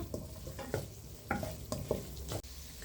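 Spice powder sautéing in a pan over low heat for potato samosa filling, with a steady soft sizzle broken by several scraping spatula strokes at an uneven pace, close and moderately loud.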